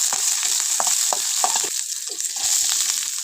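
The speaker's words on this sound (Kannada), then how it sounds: "ಸ್ವಲ್ಪ ಎಣ್ಣೆ ಹಾಕಿದ್ದೀನಿ ಕಾದಿದೆ ಮೆಣಸಿನ್ಕಾಯಿನ ಹಾಕ್ತಾಯಿದ್ದೀನಿ" Green chillies fry in heated oil on a stove for hotel-style vada pav, a continuous bright sizzle with intermittent stirring scrapes close by.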